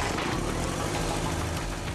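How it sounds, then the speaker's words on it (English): Suzuki GSX-R 1000 engine spun by an electric motor for a compression test on the assembly line, giving a steady, even mechanical churning that sounds almost like idling, constant and moderately loud. "The final step on the engine assembly line is a compression test."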